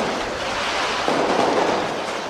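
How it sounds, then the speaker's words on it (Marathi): Firecrackers burst in a dense, continuous crackling roar for a victory celebration, loud and unbroken, swelling slightly partway through. "हे विजयाचे फटाके आज केला होते"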